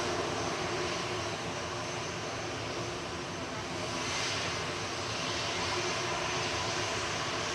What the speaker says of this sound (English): EasyJet from Alicante just arrived.